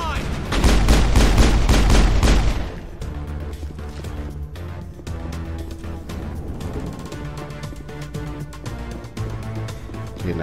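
Loud, dense bursts of rapid gunfire from the Mass Effect video game open the sequence, then give way to layered game sound effects and music.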